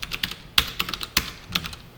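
Close, clicky keyboard typing with several distinct keystrokes in an irregular rhythm while HTML code is entered, with quiet gaps between clusters of taps and no talking.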